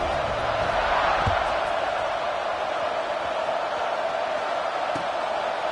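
Large football stadium crowd roaring in a steady, sustained wash throughout, NC State at Pittsburgh, with a few faint thumps underneath.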